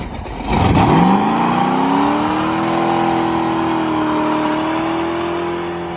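A fast Ford Mustang accelerating hard, its engine note climbing from a low rev into a loud, steady sustained roar that slowly settles.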